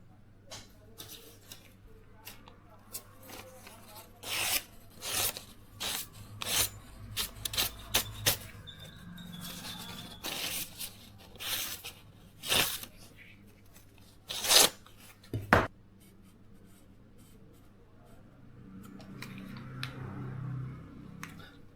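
An IKEA Fjällröding Santoku knife is drawn across a Sharpal 169H whetstone in a series of short, scraping strokes, some quick and clustered and others spaced apart, fairly close and moderately loud over quiet room tone.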